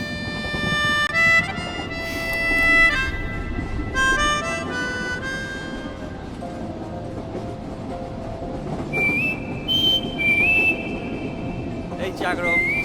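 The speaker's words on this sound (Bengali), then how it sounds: "হ্যাঁ আম্মু, ট্রেন ছাড়লো।" A passenger train pulls away from a station, sounding several drawn-out whistle tones over a continuous rumble of rolling cars, with voices in the background.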